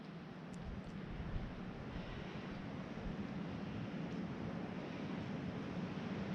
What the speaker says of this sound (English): Listen to the roar. Sounds like a train coming,